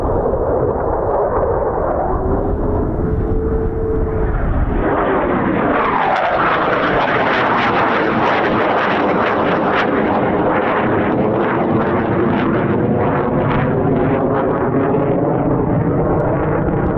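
A Eurofighter Typhoon jet flying over an air weapons range during live combat training, a loud roar that swells as it passes close, with a falling pitch sweep and a sustained rumbling tail.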